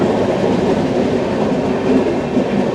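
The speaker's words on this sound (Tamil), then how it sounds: "ட்ரெயின் வளைஞ்சு போகிறது தெரியுங்களா." A passenger train on the Chennai to Chengannur line rumbles steadily around a curve, a loud continuous roar of wheels and carriage noise heard from inside a coach, with no talking.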